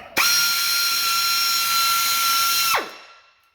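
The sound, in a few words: drill drilling holes in car side skirt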